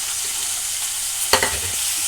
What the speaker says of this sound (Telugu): క్యాప్సికమ్ ముక్కలు వేస్తున్నాను కొద్దిగా ఉప్పు వేసుకుంటే ముక్కలు మొక్కుతుంది